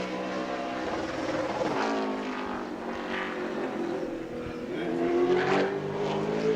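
A super late model race car engine at New Smyrna drones loudly with a rising and falling whine as it passes and changes pitch, heard steadily at moderate distance with no talk over it.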